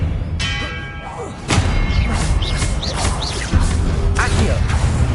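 The Expelliarmus spell effect in Hogwarts Legacy on PS5 lands as a sharp magical whoosh and thud, followed by swishing bursts and chiming tones over a dense game background, with no one speaking.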